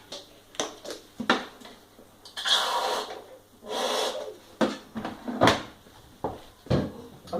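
Plastic detergent drawer on a Samsung AddWash WW80K513UW 8 kg washing machine handled and pushed shut, a series of sharp clacks, rubbing scrapes and thuds at close range, irregularly spaced.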